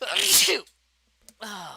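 During a podcast chat, someone lets out a single loud, sharp sneeze at the start, followed by a brief pause and then a voice speaking.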